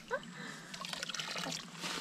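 Water splashes and trickles around gumboots while someone wades outdoors, with close sloshing and dribbling that keeps on throughout, and a brief vocal sound near the start.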